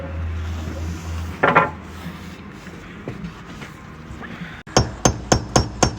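Hammer blows set nails in window trim during a retrofit window replacement on T1-11 siding: one sharp strike early, then a quick run of five evenly spaced, loud, close taps at the end over a low background hum.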